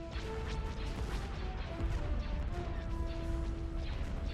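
Starship batteries fire in a space battle in the Star Wars strategy game Thrawn's Revenge, a steady barrage of dull thuds and crashes over a continuous rumbling background with faint sustained tones.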